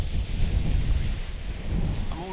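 Strong gusty wind buffeting the microphone at a blustery, wet paragliding site, a continuous low roaring rumble that surges and eases.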